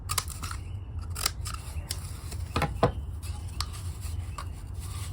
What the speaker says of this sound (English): I've got a couple of kitchen rolls here and I just cut these in half. Make a couple of cuts in the bottom.